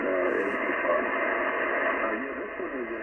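Single-sideband voice coming through a Yaesu FTdx10 receiver set to slow AGC, muffled band-limited radio talk over a smoother, quieter noise floor, steady throughout.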